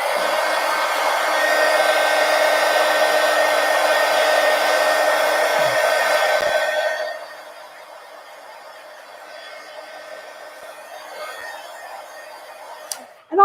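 A hair dryer blows on wet watercolor paint with a loud, steady whir for about seven seconds, then switches off, leaving a quiet room with faint rustles and a sharp click at the end.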